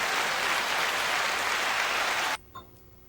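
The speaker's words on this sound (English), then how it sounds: "Sorry, I was trying to do the clapping." Clapping sound inside a casual podcast recording, a dense, even burst like many hands that runs for over two seconds and then cuts off abruptly, leaving near silence with a faint click.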